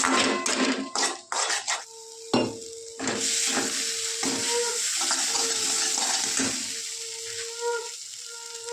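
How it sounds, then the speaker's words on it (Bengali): Cumin and chili powder frying in a pan for a homestyle fish curry, with sizzling and scraping stir strokes, some bursts of spitting oil, close and fairly loud, no talk. "জিরের গুঁড়ো ভালো করে একটু কষে নেব"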